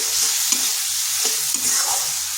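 Spice powders, including Kashmiri chilli powder, sautéing in a pan for egg and potato curry, a steady close sizzle with scraping stirs knocking through it, no voices.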